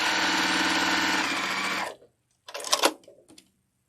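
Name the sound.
sewing machine piecing a quilt block seam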